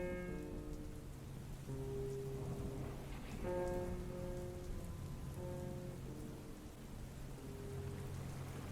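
Rain falls steadily on surfaces in a stormy flood setting, a continuous wash of patter with low rumbling beneath and sustained tonal music layered over it.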